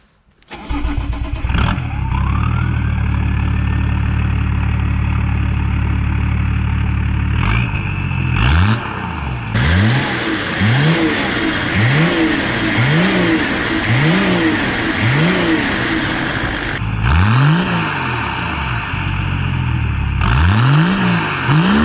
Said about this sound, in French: Donc Paul, démarre un peu ta voiture, qu'on entend un petit peu.